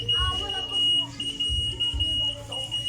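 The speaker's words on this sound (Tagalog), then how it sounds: "the system will sound the alarm and the user should receive a notification saying that the chicken coop was breached" An Arduino-controlled smart chicken coop breach alarm emits a continuous high-pitched electronic tone, steady and fairly loud, while a person talks over it.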